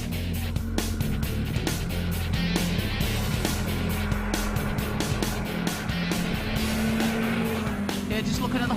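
A car accelerates hard out of a roundabout onto a national-speed-limit road, engine droning loud and steady with low rumble throughout, some faint tyre and road noise mixed in.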